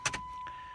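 A Jeep ZJ's ignition is switched on with two quick, close mechanical clicks in succession, followed by a faint, steady electronic tone that holds under low background hum.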